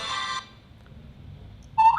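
A mobile phone rings in short electronic tone bursts, one near the start and another near the end, with a quiet gap between them and no speech.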